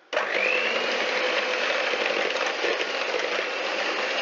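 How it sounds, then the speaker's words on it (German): An electric hand mixer with beaters whisks French toast batter: a sudden start, then a steady bright whirring drone that holds evenly for several seconds, close and alone. "Jetzt habe ich aber die Rührteile schon drin und mache es halt elektrisch."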